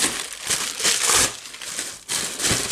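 A plastic bag crinkles and rustles in rapid handled bursts close up while a model is packed into a box, busy and loud with no voices.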